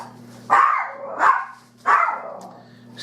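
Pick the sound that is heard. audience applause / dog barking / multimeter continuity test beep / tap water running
dog barking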